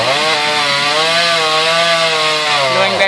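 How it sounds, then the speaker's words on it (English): A loud chainsaw cutting through a tree, its engine holding a steady, continuous whine with slight pitch wavering throughout, close and alone. "Going back to the chainsaw"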